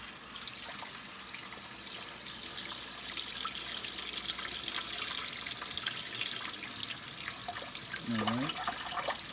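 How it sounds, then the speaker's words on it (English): Rice rinsed under a running kitchen faucet, a steady close hiss of flowing water that strengthens after a couple of seconds and runs on, with a short voice-like sound near the end. "Always rinse your rice. Yeah, rinse that rice."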